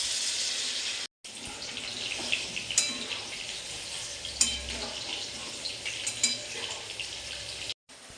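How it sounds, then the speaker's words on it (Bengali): Water pours into a pan of fried potatoes, a close hissing splash and sizzle that rises and falls with a few sharp clatters, broken by two brief silent gaps. "এটার মধ্যে আমি এবার সামান্য পরিমাণ জল দিয়ে দেবো।"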